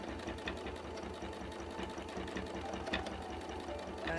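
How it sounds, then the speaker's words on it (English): A sewing machine stitches fabric for quilting, its quiet, steady mechanical whir ticking with a fast, even rhythm, close by and alone. "You're stitching over and over all the time in the same areas."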